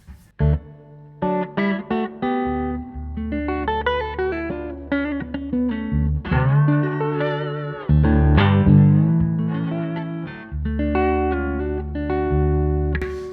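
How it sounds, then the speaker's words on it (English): Electric guitar, a Goosecaster, played through a pedalboard with reverb switched on: ringing chords and single notes that sustain and wash into a reverberant tail, loud and close, with no voices. "That's my reverb"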